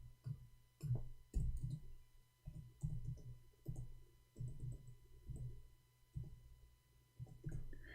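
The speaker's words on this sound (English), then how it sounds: "I'm typing in English" Short bursts of keyboard typing come and go in an uneven rhythm, soft dull keystrokes clustered into groups with brief gaps, close by and with no talking.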